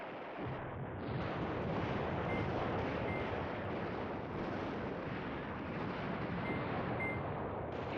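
Artillery fire during a Poland 1939 defense of the Beskid Mountains in Command Ops 2 forms a steady, dense rumble of overlapping distant blasts that barely changes in loudness.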